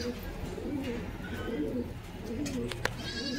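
Pigeons coo in low, repeated throaty phrases over a steady background hum, fairly close and moderately quiet, with a brief click near the end.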